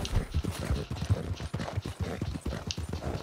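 Horse hooves from Red Dead Redemption 2 clip-clop in a steady, close trotting rhythm, loud and continuous with no talk.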